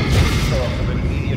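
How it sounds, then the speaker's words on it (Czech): Heavy gunfire hits a salvage ship in the Star Wars VR game Vader Immortal, heard as a rumbling, booming barrage of low impacts with dialogue spoken over it. "Někdo po nás střílí."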